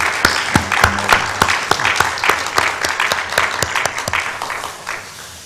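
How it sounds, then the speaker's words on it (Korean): A church congregation claps together in thanks for volunteers, a dense run of sharp, uneven hand claps filling the room for several seconds before it thins out toward the end. "수고하는 분들을 위해서 우리 박수 한번 칠까요?"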